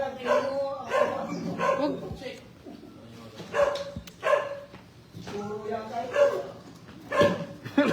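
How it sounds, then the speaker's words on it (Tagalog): An agitated dog barks in short repeated bursts at close range, with a few whimpers between them, while people talk over and around the barking throughout. "Galit na galit na yung aso."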